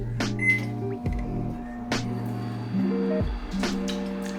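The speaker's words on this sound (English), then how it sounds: "And just put it in the microwave." A microwave oven hums steadily with a low electrical drone, broken by clicks and shifts in tone as it cycles, running alone at close range.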